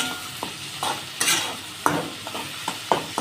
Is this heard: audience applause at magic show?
no